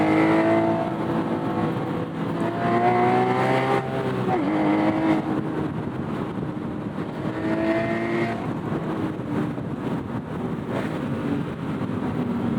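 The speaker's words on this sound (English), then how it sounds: "with the top down, you can really hear that engine sing." A sports car engine, a Ferrari 458 Spider or Porsche Boxster Spyder convertible with the top down, hums and rises in pitch as it accelerates through gears, with wind rushing past, the drone shifting up and down.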